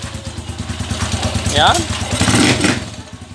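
A TMX155 motorcycle converted to a 175cc engine runs at steady idle, its regular low, throbbing pulse continuing throughout, while someone speaks over it and a brief whistle-like tone rises in the middle.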